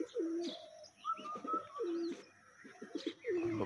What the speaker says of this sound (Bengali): সবটি কবুতর এখানে বসে রয়েছে